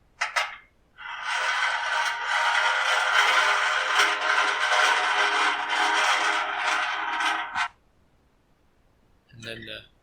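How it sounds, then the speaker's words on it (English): A garden rake scraped for sound design, heard as a loud, sustained rough scrape lasting several seconds, with a brief scratch before it and a short rustle after. "Then this is the rake scraping."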